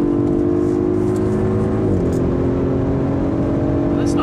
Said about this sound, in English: When you have a V6, you have a distinctly different exhaust sound and engine sound as well.